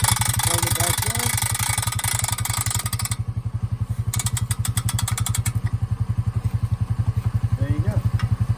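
A Honda Rancher ATV engine chugs steadily in a fast, even rhythm while skidding logs with a log hitch, loud and close throughout, with some clattering of the hitch and a person talking over it.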